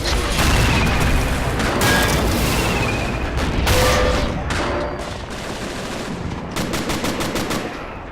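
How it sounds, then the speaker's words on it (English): Dense, loud battlefield gunfire from a Men of War Assault Squad 2 tank battle, with rapid machine-gun bursts, cannon booms and repeated hits on tanks overlapping continuously, ending in a fast clattering string of shots. "there's just so many tanks being shot at this guy"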